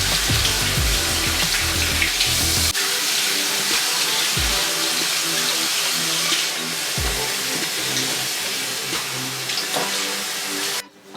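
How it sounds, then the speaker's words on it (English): Hot water runs steadily from a bathroom sink tap while a towel is prepared for a traditional barber shave, a close, continuous splashing hiss with a few clunks and handling knocks along the way. "I'm going to just use the hot water in the sink to just do the step"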